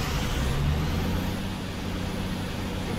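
A truck drives along a dangerous road in a modded video game, its engine giving a steady, loud, low drone throughout with no talk.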